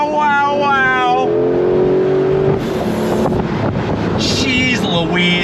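A 2025 Porsche 911 Carrera GTS T-Hybrid launches hard from a standstill, its engine note climbing loudly through the revs with wind rush, while excited voices exclaim over it.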